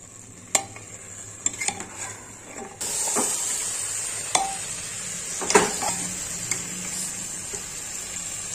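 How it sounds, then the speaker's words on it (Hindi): Rice for bajra (pearl millet) khichdi sizzles and hisses with spices in a hot pan while a spoon scrapes and stirs, with sharp clinks against the metal. "चावल डाल दिए हैं, अब इनको अच्छे से हम भून लेंगे मसाले में"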